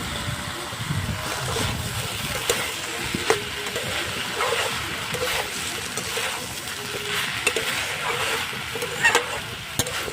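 Vegetarian papaya ghonto curry being stirred in a pan just after fried chickpeas are added: a steady low sizzle with scraping and wet stirring sounds and occasional clinks, close and continuous, without speech.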